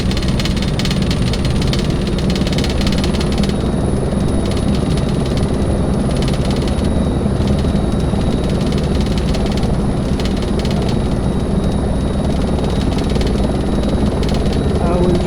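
A helicopter engine and rotor drone steadily at idle inside a desktop helicopter flight simulator set to its most realistic mode, a loud continuous mechanical hum with no speech over it.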